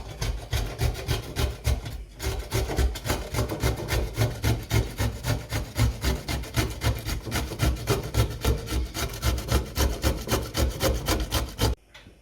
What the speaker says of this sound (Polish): Ogórki ścieramy w tradycyjny sposób na tarce.